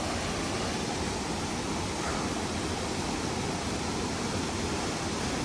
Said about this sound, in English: Beautiful cascade right there.